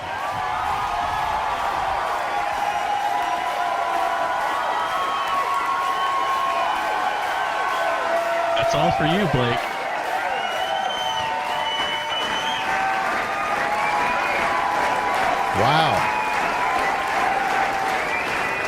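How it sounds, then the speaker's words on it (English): A studio audience at a hockey mascot show claps and cheers continuously in a loud, dense roar, with a few voices speaking over it. "They clap more for you than they do for me."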